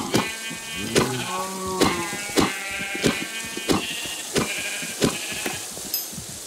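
Sheep in the Minecraft video game bleat in a series of about ten evenly spaced, loud, nasal cries, one every half second or so, with quiet gaps between them and no speech.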